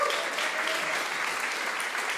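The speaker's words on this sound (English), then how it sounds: "Let's give the WoodSongs crew a big, big, big hand." A live audience at a WoodSongs livestream applauds the crew with dense, steady clapping that holds at an even loudness throughout. It sounds like a broad crowd with no distinct voices.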